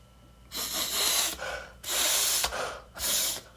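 Three loud, breathy sniffs or snorts in a row from a person sick with a cold, close up, each a sharp noisy inhale separated by short pauses.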